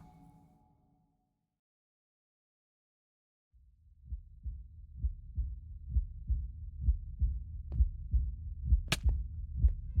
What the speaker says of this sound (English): we had a heartbeat for dramatic tension